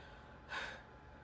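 A voice imitates a character panting as if exhausted from running a marathon: a single sharp, breathy gasp, short and fairly quiet, in an otherwise faint quiet background.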